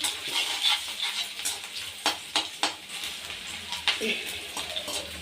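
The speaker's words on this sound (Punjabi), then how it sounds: "ਇਹਦੇ ਵਿੱਚ ਪਾਵਾਂਗੇ ਜੀ ਅਸੀਂ ਅਦਰਕ ਅਦਰਕ ਨੂੰ ਚੰਗੀ ਤਰ੍ਹਾਂ ਭੁੰਨ ਲਵਾਂਗੇ" Ginger roasting in a frying pan, with a spatula stirring and scraping through steady sizzling and occasional sharp clinks of metal, close and continuous with no talking.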